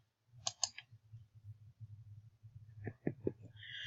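A computer mouse clicks a button while navigating a Canvas course page: a crisp double click early on, then a quiet pause and a few more clicks near the end, close and clear over faint background hum.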